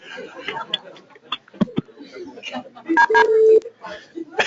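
Keypad tones sound over a conference call line during a public prehearing, a few short beeps and a longer held tone mixed into overlapping speech and background chatter from open phone lines.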